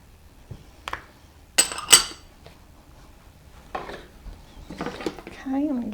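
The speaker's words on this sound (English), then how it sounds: "I'm going to give this a good stir" A spoon clinks and scrapes in a bowl as fruit cocktail cake batter with eggs and vanilla is stirred: a few sharp, close knocks and rattles with quieter scraping between, and a voice briefly near the end.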